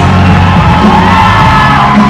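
Crowd at Vienna Comic-Con cheering, yelling and whooping for a cosplayer dressed as Darius from League of Legends, loud and dense throughout with shouts rising over the roar.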